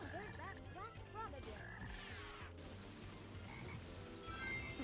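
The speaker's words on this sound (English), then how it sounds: "There's that black frog" Frog croaking in the Sonic Heroes video game, a series of quick, bubbly, repeated croaks up close amid busy game music and effects.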